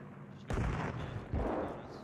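Two heavy booming blasts about a second apart, loud and close with deep low rumble and a brief decay, from grenades in the WWII-themed military game Arma Reforger.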